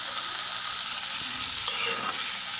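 Drumstick curry with tomato and spices is stirred in a frying pan, giving a steady close sizzle with light scraping and a couple of soft utensil knocks.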